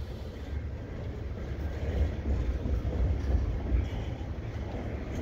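A CN freight train rolls past a street bridge during a winter snowstorm, its steady low rumble and rail noise holding fairly constant throughout, with no talk.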